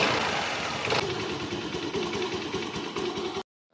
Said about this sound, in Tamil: வண்டியை ஸ்டார்ட் பண்ணி காட்டுறேன்.